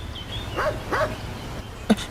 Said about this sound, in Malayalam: എന്താ സാറേ നായുടെ ശബ്ദം കേൾക്കുന്നുണ്ട്?